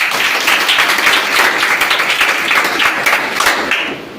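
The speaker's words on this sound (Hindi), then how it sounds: "एक बार ताली मेरे लिए।" Audience applause at a live event, dense steady clapping from many hands filling the room for a few seconds before easing off slightly at the end.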